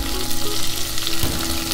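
Small onions frying in hot oil for sambar, a steady close crackling sizzle with soft stirring scrapes, no voices.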